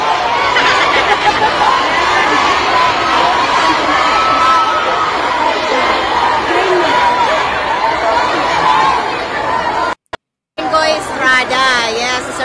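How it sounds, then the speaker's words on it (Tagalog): A dense crowd in Singapore clamors with overlapping shouts and excited chatter, loud and close, briefly cutting out before the noisy babble resumes. "Biglang sigaw sila, Duterte!"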